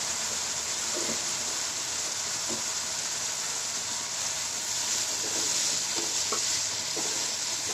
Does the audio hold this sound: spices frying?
yes